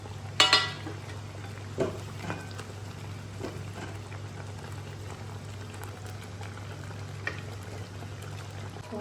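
Ghee and milk cream going into a simmering dhaba-style paneer butter masala, a few soft wet plops and a short pour near the start over a steady low bubbling simmer, with faint clinks later and no talk.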